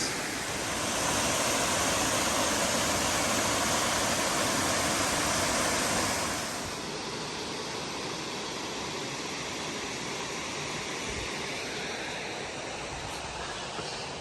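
Laurel Falls on the Appalachian Trail pours as a broad, steady rush of water, loud and close at first, then easing slightly to a continuous softer roar, with no voices.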